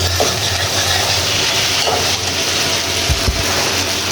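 Noodles being stirred and fried in a hot pan with a little naga chili, a steady loud sizzle with scraping stir noises throughout and a couple of low knocks near the end.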